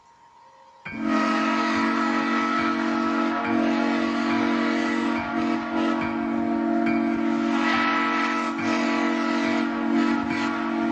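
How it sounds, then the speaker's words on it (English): A steam train whistle sounds a long, loud, sustained wail after a brief quiet start, holding steady with slight wavering for about ten seconds. "The long, loathsome wail of a steam whistle."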